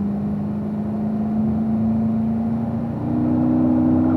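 A race car accelerates up through the gears on a track toward a corner, its engine a loud, steady drone that holds one pitch and shifts slightly higher near the end.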